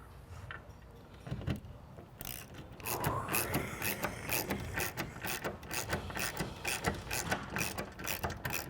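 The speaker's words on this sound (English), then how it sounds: "And then socket wrench, socket on here." A socket wrench ratchets in quick, even clicks while bolts are tightened during a TV wall mount. It starts with a few scattered clicks, then settles into a steady, close rhythmic ratcheting that lasts several seconds.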